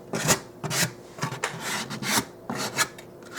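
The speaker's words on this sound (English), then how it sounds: "Now take your scraper, whatever you're using to scrape with, you can use, and scrape towards those openings that you left." A scraper rasps paste along wooden trim in a series of short, close strokes, each a gritty scrape with brief pauses between, uneven in rhythm and fairly loud.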